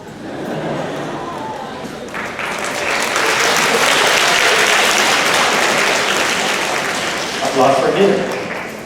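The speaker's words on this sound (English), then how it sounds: "Applause for dinner." Dinner guests at a high table anniversary dinner applaud, the clapping swelling to a full, dense burst before easing off, with some voices mixed in.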